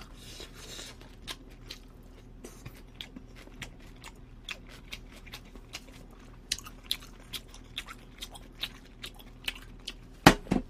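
Close, quiet chewing of squid with irregular crunchy bites and clicks, growing a little louder toward the end, no talking.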